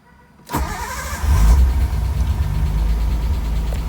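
A Nissan 240SX S14 with a swapped RB20 engine and KA injectors cranks and fires, then settles into a steady, loud, slightly uneven idle close to the car.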